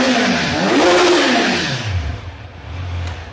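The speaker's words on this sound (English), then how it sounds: "typical Kawasaki motor, super smooth, quiet at idle, but really loud when you get the revs up" Kawasaki Z900 motorcycle engine revving hard and loud up close, the pitch rising then dropping back toward a lower idle-like drone.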